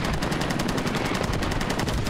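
Rapid automatic gunfire in the Squad video game, Invasion mode, hammering out as a fast, steady stream of close, loud shots for the whole stretch.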